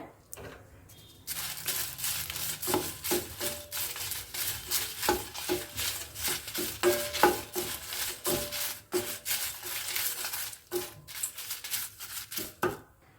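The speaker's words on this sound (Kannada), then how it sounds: "ಖಾರಕ್ಕೆ ಬೇಕಾಗುವಷ್ಟು ಒಣಮೆಣಸನ್ನು ಹಾಕಿದ್ದೀನಿ ನಂತರ ಇದಕ್ಕೆ ಸ್ವಲ್ಪ ಎಣ್ಣೆ ಹಾಕೋತಾ ಇದ್ದೀನಿ" Dry red chillies roast in a drop of oil for chutney powder while being stirred, a close, continuous dry scraping and rustling with rhythmic spoon strokes against the pan and a faint sizzle underneath, no talking.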